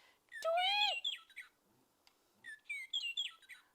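Sparrow chicks tweet and squawk in a nest, a loud rising cheep followed by bursts of high chirps, near and clear with no talk.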